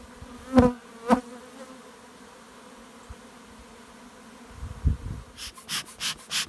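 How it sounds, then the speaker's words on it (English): Young honey bees fly out of a hive in brief close passes, a few loud buzzing bursts early and a quick series of buzzes near the end. "So a whole bunch of young bees going out"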